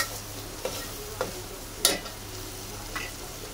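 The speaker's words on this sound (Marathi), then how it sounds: "चांगला मसाला भाजून घेऊ एकदम." Masala roasting in a pan, a soft steady sizzle broken by a few scraping strokes of a spoon stirring it, close and fairly quiet with no talk.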